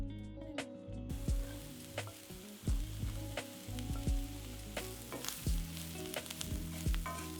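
Sliced peppers and vegetables frying in a hot pan for a sausage and pepper omelet, a continuous dense sizzle with scattered crackles and pops, close and steady throughout with no talking.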